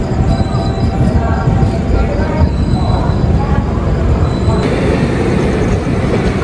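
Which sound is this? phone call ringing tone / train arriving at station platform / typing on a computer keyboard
train arriving at station platform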